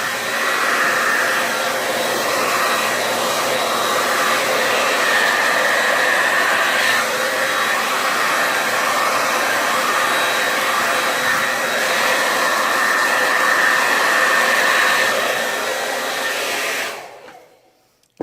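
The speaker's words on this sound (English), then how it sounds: "I can blow it out on low" A hair dryer on its low setting blows steadily across wet white pour paint in a Dutch pour, a continuous whooshing hum that runs unbroken and close before cutting off near the end.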